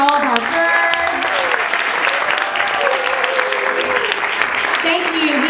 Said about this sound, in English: How about another round of applause for all of our birds?